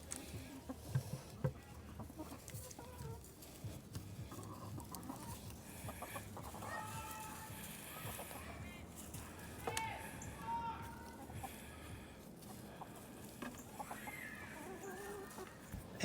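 Backyard chickens cluck softly and scratch about while pecking through grass, their calls scattered and fairly quiet under steady outdoor background noise.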